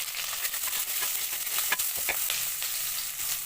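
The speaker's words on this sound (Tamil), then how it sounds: "வெங்காயம் லேசாக கண்ணாடி பதமாக வதங்கட்டும்." Sliced onion and green chillies fry in a pan with cardamom and cloves as ghee rice is made. The sizzle is steady and close, with soft stirring scrapes and no talking.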